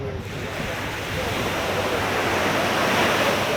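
Waves breaking on a beach on the west coast of Barbados, a loud, continuous rushing wash of surf that swells slightly as it goes, heard alone without speech.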